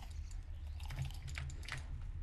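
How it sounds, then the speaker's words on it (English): Eating an apple in the game SkySaga gives soft, crunchy chewing and biting sounds, close and quiet, coming in a loose run of bites with no speech. "I'm gonna eat these apples because I don't want to eat food in real life"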